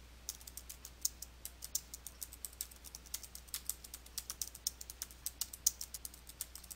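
Steady typing on a computer keyboard, a rapid run of light, crisp key clicks at an uneven rhythm, heard close and alone.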